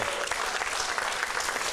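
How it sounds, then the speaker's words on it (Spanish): A church congregation applauds during a sermon, a brief, fairly faint burst of many hands clapping steadily, heard from a distance. "Denle un aplauso a Jesucristo."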